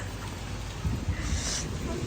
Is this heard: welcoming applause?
no